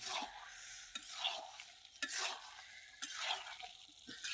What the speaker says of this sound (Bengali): শালুনটে ভালো করে কষে নেই।